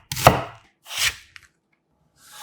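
A knife chops a quarter onion into thick julienne strips on a cutting board, giving two crisp cutting bursts, a small tap, then a softer stroke near the end, close and clear with no talk.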